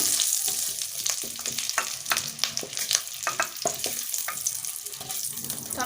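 Loud, crackling sizzle of eggs frying in hot oil, with spatula scrapes and clinks breaking through the constant hiss.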